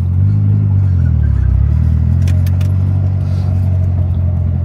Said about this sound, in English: So many dickheads drive through here, fucking revving their tits off.